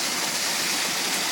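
Water flows into an underground stormwater outfall structure at a clogged management facility, making a steady, close, hissing wash with no change in level. No one speaks.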